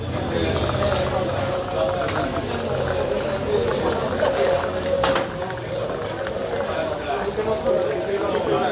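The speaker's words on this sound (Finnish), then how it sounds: "Siinä teille vähän mallia, miten teetä kuuluu kaataa. Se kaadetaan korkealta" Moroccan tea is poured from high up into a glass, a trickling, splashing stream of liquid running continuously beneath a busy background of voices and people talking.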